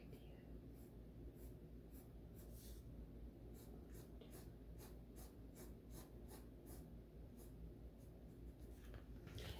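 Pencil sketching a dress design on paper, a soft continuous scratching with a steady stream of short strokes, close and quiet in a hushed indoor setting.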